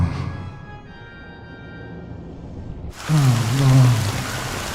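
Rain in the video game Honkai Star Rail starts abruptly after a quiet stretch of soft tones, then pours as a steady hiss with a low droning layer underneath.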